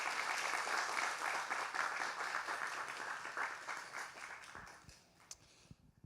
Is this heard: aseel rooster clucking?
no